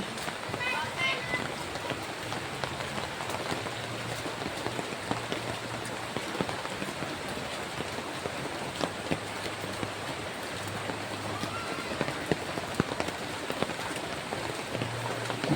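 Steady rain falls on a surface outdoors near a large river on a boat trip, a dense continuous patter with voices talking faintly at times.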